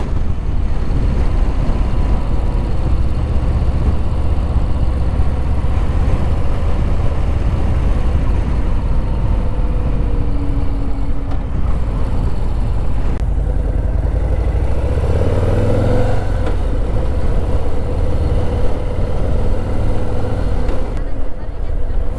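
A Harley-Davidson Low Rider S motorcycle rides along mountain roads, a steady loud engine roar with wind noise throughout and a rider talking over it.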